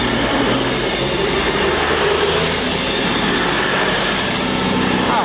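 Avanti West Coast Class 221 diesel train, units 221112 and 221111, passing Stafford on the West Coast Main Line: a loud, close, steady rumble of engines and wheels on rails, sustained for the whole clip.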